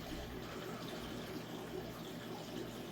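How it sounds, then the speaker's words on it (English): Water falling through a pipe in a home-built water circulation system that runs overnight, a steady broadband trickling and rushing flow with a low hum underneath, continuous and even at moderate level. "It is a little noisy, like the water falling through the pipe."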